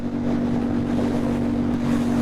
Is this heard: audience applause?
no